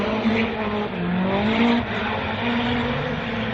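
A Toyota Formula Drift car driven by Fredrik Aasbo drifts through a qualifying run on Nexen tires, pouring out smoke. A loud engine howl shifts pitch up and down against a harsh tire-scrub hiss, with only a faint hint of a voice.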